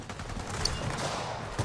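Gunfire in the Gears of War 4 video game, a rapid burst of automatic shots rattling continuously for under two seconds, loud and close with no talking over it.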